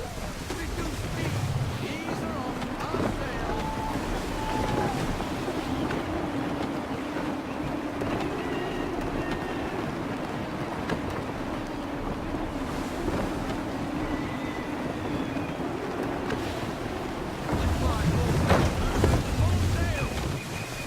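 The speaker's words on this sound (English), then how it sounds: "Gusty winds can be difficult to manage." A sailing ship rides out gusty wind at sea in Assassin's Creed 3. Steady wind and water noise whoosh throughout, with creaking and occasional surges of gusts.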